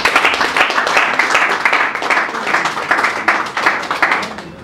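A committee audience at a meeting claps for itself, lively close-range applause with distinct rhythmic pulses of many hands, loud and unbroken throughout.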